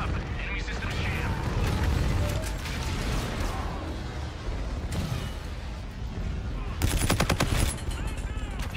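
Gunfire in the video game Call of Duty: Infinite Warfare, a continuous loud run of rapid automatic shots and impacts with a sharper burst near the end, mixed with game noise and radio-style voices.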